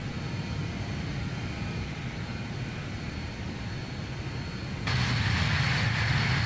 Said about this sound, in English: Much better takeoff performance with flaps 24.